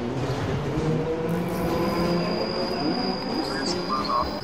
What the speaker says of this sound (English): Oh! Ghost trains.